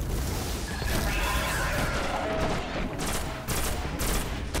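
Rockets fire and explode during a boss battle in the video game Destiny, a dense, loud barrage of blasts and crashing impacts filling the whole stretch with no speech.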